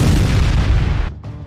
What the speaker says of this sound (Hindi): इजराइल पर भीषण बमबारी कर अपना गुस्सा